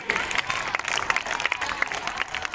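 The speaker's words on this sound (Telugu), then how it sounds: "గట్టిగా చప్పట్లు పెట్టాలి." Audience applause during a prize announcement for a speech competition, a dense steady patter of many hands clapping throughout, moderately loud with crowd murmur mixed in.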